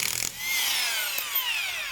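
An impact wrench with a 17 mm socket briefly rattles on a MIA Electric rear wheel, then its motor whines and slowly winds down. The sound is close and loud.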